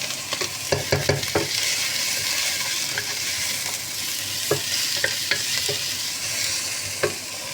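Food frying and being stirred in sesame oil in a pan, a steady sizzle broken by sharp utensil clicks and scrapes at irregular intervals, close and fairly loud.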